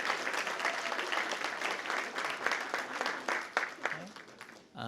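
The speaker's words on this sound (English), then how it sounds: "let's give them one more round of applause" Audience applause at a school district kindergarten information day, steady dense clapping filling the room for about four seconds before tapering off, with a voice briefly heard near the end.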